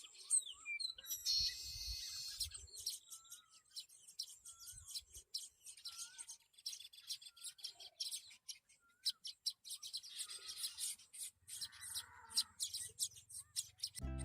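Many small birds of different colours calling around nests in a date palm tree, with a dense stream of quick, sharp chirps and tweets at a moderate distance, unbroken throughout.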